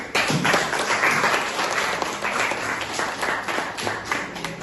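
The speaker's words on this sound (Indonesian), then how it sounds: "Tepuk tangan untuk kelompok Raya" A classroom of physics students claps for Raya's group after their presentation, a dense, steady patter of many hands filling the room for several seconds.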